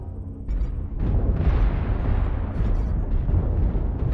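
Missile explosion in a mech combat video game, a sustained loud rumbling blast that swells after half a second and rolls on without a break.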